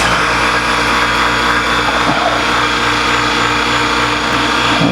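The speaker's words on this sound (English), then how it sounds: "So I'll activate the vacuum." A vacuum pump runs steadily at close range, drawing vacuum through a pad held on the intake port of a GM 5.3 engine during an overhaul, giving a continuous mechanical hum and whine with no talk over it.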